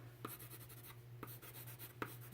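A red watercolor pencil scratches across paper as a layer of color is built up. The strokes are quiet, close and repeated in short bursts, with occasional sharper taps of the pencil, over a faint low background hum.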